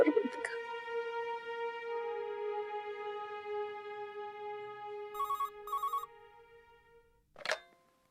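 A telephone rings in a household with a tonal electronic ringtone, sounding in short repeated bursts over a steady hum, followed by a brief clatter as it is answered.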